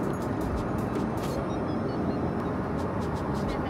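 Steady, loud engine roar and airflow hum fill the cabin of an older business-class airliner on a flight from Seoul to Sapporo, continuous and even throughout with no speech.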